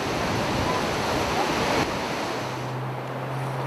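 Steady, dense roar of Yosemite Falls rushing down a cliff, broad and continuous, with a low hum joining partway through.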